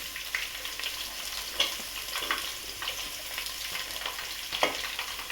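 Onions sizzling and crackling steadily in oil for chicken sukka, with a few sharper pops and stirring scrapes standing out. No talking.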